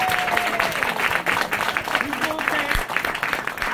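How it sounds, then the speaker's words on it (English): An audience at a Black parent conference on school rights claps and cheers in a steady burst of applause, with voices mixed into the crowd noise. "Let's clap it up for Doc."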